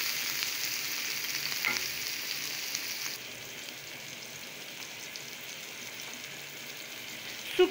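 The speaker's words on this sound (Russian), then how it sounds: "нарезанный кубиками лук и морковь выкладываем. Поджариваем." Diced onion and carrot sizzle steadily in a frying pan on the stove, a constant soft hiss with faint crackles, easing a little partway through and ending in a small clink.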